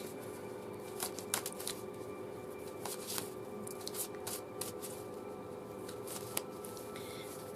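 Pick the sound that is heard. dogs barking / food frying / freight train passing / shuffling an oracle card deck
shuffling an oracle card deck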